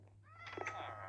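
A cat meowing indoors, one drawn-out, rising and falling meow close by over a steady low electrical hum.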